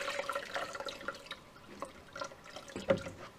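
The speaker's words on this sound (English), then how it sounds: "I'm starting with my new Ninja. I'm putting 4 cups of water." Four cups of water poured into a new Ninja blender, heard as a soft, uneven trickle with scattered drips and splashes close by, with no talking.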